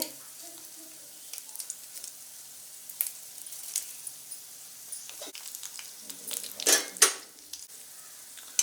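Urad dal, chana dal and a broken dried red chili sizzle softly in hot oil for a tempering. A light, steady crackle runs throughout, with occasional stirring clinks and a louder burst near the end.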